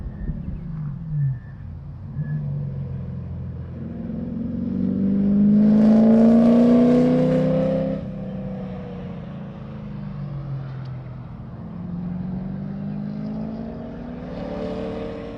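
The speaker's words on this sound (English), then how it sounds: "He'll be taking the checkered flag as the C8 enters the final corner." A Corvette C8 race car accelerates through the final corner of a circuit, its engine rising to a loud, rasping peak mid-way and then fading into a steady, more distant drone.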